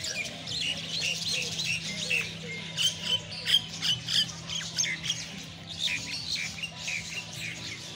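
Many birds chirp, squawk and call at once in an outdoor bird park with peacocks, a dense, busy chorus of overlapping calls, some near and loud, with a steady low hum beneath.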